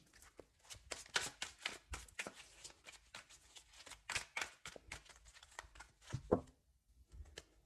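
Tarot cards shuffled for a reading, a dense run of quick papery riffling bursts repeated in close succession, near and crisp with no talk.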